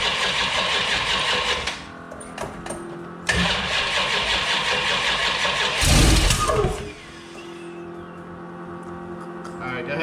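A small block Mopar V8 being run for cam break-in cranks and fires repeatedly, with bursts of rough running, a loud revving surge near the middle, and pauses between attempts.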